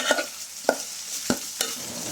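Mustard seeds and fenugreek fry in hot oil for tempering, a continuous sizzle cut by four evenly spaced scraping strokes of a spoon in the pan.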